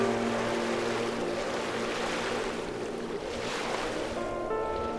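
Ocean surf washes and rolls in a steady broadband rush, with a gentle swell and slight fade midway, mixed with low droning music and no voices.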